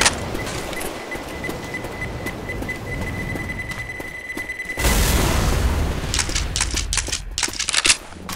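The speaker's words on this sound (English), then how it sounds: "Grenade!" Grenade explosion in the zombie shooter Left 4 Dead: a steady hum with scattered clicks gives way to a sudden loud broadband blast, followed by crackling gunshots and debris.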